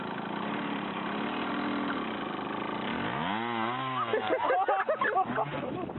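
A motorcycle engine from a played-back video drones steadily, then revs up and down in rising and falling sweeps before breaking into rougher bursts, heard fairly close and slightly muffled.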